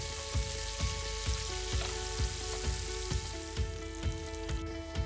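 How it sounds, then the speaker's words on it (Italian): Cantabrian anchovies, shallot and garlic fry gently in hot oil over low heat, a steady soft sizzle with regular light stirring taps recurring about twice a second. "Lascio soffriggere il tutto per 5 minuti a fuoco dolce."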